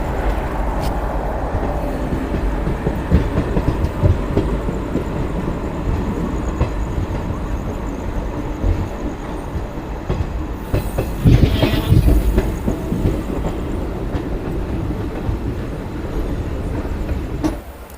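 An Indian Railways train, the Kumbh Express, pulls out of a station with a steady, loud rumble of rolling wagons and clattering wheels, plus a brief squeal or horn-like burst partway through.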